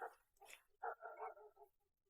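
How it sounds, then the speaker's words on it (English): Dogs bark at night somewhere beyond a solo campsite in the Chilterns, a house a couple of hundred meters off; a faint, distant cluster of barks and yips arrives in short bursts over about two seconds. "They're coming this way, the crazy dogs."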